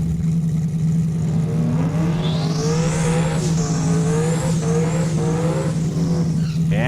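At a drag strip, a race car pulls out of the burnout box at close range. The engine revs and climbs in pitch, and tires squeal over a loud, steady low drone.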